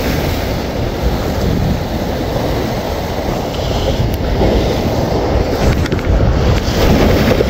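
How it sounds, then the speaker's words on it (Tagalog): Large surf breaks against the shore in a continuous loud wash, with wind buffeting the microphone and the roar swelling near the end. "Bakit biglang laki ng alon dito?"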